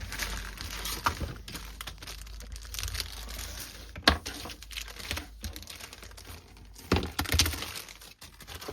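Close, busy crinkling and rustling of a thin plastic bag from a Gundam model kit, with sharp snaps and crackles scattered through the handling.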